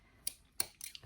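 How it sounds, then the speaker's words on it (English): Sharp scissors snip through a sewn fabric seam allowance in two or three quick, crisp, close cuts, quiet and isolated. "take some sharp scissors and just go around and cut through"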